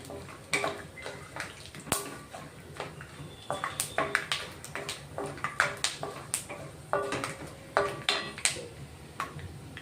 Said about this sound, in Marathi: अर्धी वाटी शेंगदाणे तळून घेते.